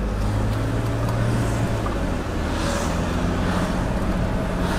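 An oldtimer car drives along the road, its engine a steady low drone with constant road and wind rumble filling the cabin, running evenly from start to finish.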